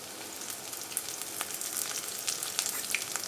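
Garlic and ginger fry on a high gas flame for homemade Schezwan sauce, giving a dense, loud, continuous sizzle with crackling pops and a few stirring scrapes close by, and no voices.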